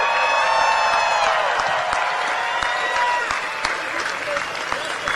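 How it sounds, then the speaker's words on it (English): A large outdoor crowd at a Seattle Sounders soccer parade cheers and applauds for the Seattle Police, a dense sustained wash of clapping with whoops and shouts, some voices rising above the roar. "Let's give a big cheer for what the Seattle Police Department does every day for the people of the city of Seattle"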